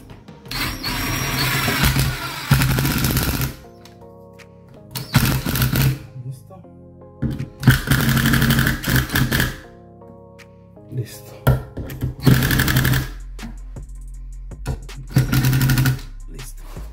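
A screw being driven into a shower valve during a solder-free installation, heard as several loud bursts of a whirring power driver separated by quieter pauses, with tonal hum in between.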